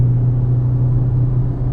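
A Hyundai Creta engine held in sport mode, a steady low droning hum heard from inside the cabin, loud and unbroken with no voices.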